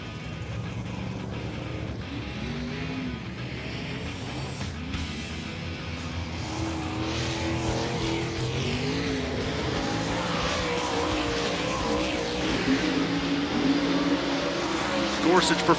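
Race cars running hot laps at Volusia Speedway Park during the DIRTcar Nationals, a continuous roar of engines rising as cars rev and pass, with an announcer talking over it.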